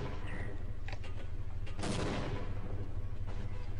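Weapons fire in the Half-Life game in a few separate bursts, with one loud, sharp volley near the middle standing out above a low, constant rumble.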